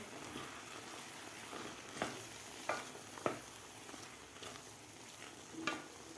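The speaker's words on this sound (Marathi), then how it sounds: "आता आपल्याला हे व्यवस्थित मिक्स करून घ्यायचं आहे" Spoon stirring pineapple sheera tinted with saffron in a pan, a soft steady scraping and light sizzle with a few sharper clicks of the spoon against the metal, fairly quiet and close, no voices.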